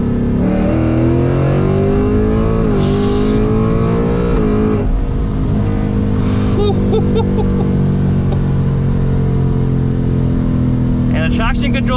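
An 800 hp ESS supercharged S650 Mustang GT pulls hard in third gear, its engine note climbing steadily as it accelerates from inside the car, with brief blow-off valve hisses and people talking over the roar.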